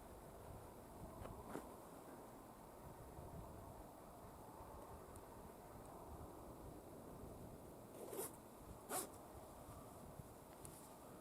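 A coat zipper zipped up outdoors on a chilly day during a saddle hunting setup, heard as two quick, sharp zips close together over a steady background hiss, each short and crisp.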